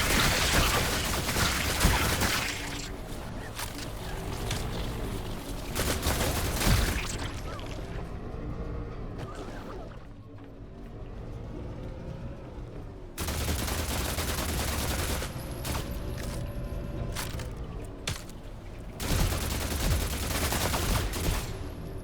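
Sustained automatic gunfire in The Last Caretaker, loud rattling bursts broken by a quieter gap, then more rapid fire resuming with metallic mechanical clatter.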